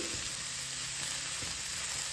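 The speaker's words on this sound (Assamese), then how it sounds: "জাতিলাওখিনি দিয়ে অলপ সময় ভাজি ললো" Bottle gourd pieces fry in oil with nigella seeds, garlic and chilli, giving a steady soft sizzle that hisses evenly throughout, with a faint low hum beneath and no talking.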